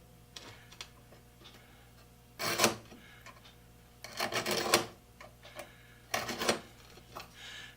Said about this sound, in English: So I can take this nice sharp carbide scriber, go through, and scribe the line.